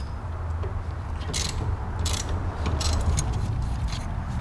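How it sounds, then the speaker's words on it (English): A hand ratchet works a 14 mm bolt loose at the top of the spindle on a Mazda Miata during a coilover install, its clicking mechanism close and steady, with a few brighter bursts of clicks. "the next bolt I'm gonna take off is the one at the top of the spindle here"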